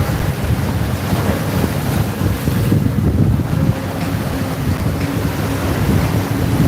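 Racing powerboat engines drone across the sea at Torquay during a race, a steady broad roar out on the water, mixed with heavy wind buffeting on the microphone and a wash of waves.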